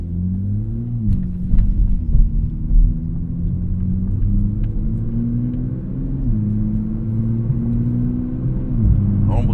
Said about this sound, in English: Normal driving on normal roads, it's quiet enough on the inside.